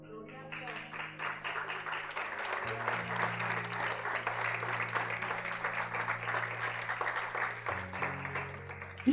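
Church congregation applauding in praise, a steady wash of dense clapping that fills the room at even loudness throughout, with a low organ or keyboard chord sustaining underneath.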